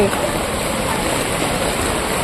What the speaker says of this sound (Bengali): জল দেখো, কি তুমুল বৃষ্টি হচ্ছে